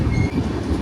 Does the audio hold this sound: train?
yes